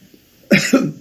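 Two quick, harsh coughs in a row break a near-silent moment, close and loud.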